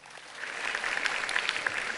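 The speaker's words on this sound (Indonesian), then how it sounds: "tepuk tangan untuk Pak Erlangga." An audience at the Indonesia Net Zero Summit 2023 applauds Pak Erlangga, the clapping starting softly and building to a steady, dense wash of many hands, heard at a distance.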